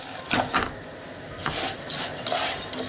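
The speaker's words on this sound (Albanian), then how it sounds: "ne do të vazhdojmë derisa t'i skuqim makaronat" Pasta fries in a pan, with soft sizzling under a few scraping stirs and light clinks of a utensil against the pan, coming in short bursts separated by quieter frying; no one speaks.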